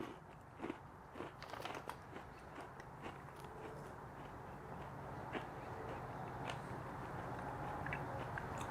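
A crunchy snack with malic acid in its ingredients is bitten and chewed up close, giving a run of crisp crackles and crunches that carry on steadily with no talk over them.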